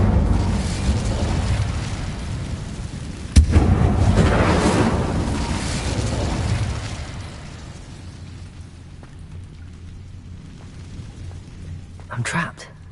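Incendio fire spell cast in Hogwarts Legacy, a roaring burst of flame with a sharp impact crack partway through, loud at first then fading into a low rumble, with a voice speaking over it.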